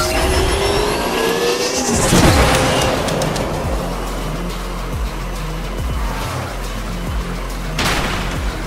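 Race car engines roar and rev in the Asphalt Legends Unite racing game on Nintendo Switch, loud and continuous with rising whooshes, gear shifts and passing sweeps, and no speech over them.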